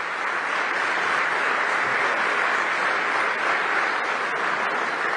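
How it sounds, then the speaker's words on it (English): An audience applauds the Deputy Secretary of Homeland Security at an event, steady dense clapping that holds evenly throughout with no voices over it. "Let's give him a round of applause."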